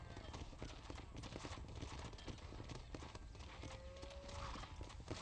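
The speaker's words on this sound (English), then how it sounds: "Hit your horse and wait for me by the stable." Horse hooves clip-clopping steadily in the video game Red Dead Redemption, a continuous rhythmic trot under game ambience with a brief whinny.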